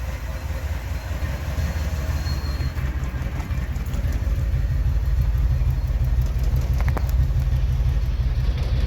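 Vehicle engine idling steadily on a roadside check after a breakdown, a constant low rumble with a faint ticking rhythm, loud and close with no voices.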